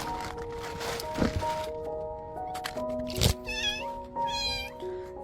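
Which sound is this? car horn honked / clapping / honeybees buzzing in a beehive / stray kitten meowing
stray kitten meowing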